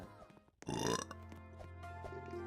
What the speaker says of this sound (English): You been burping too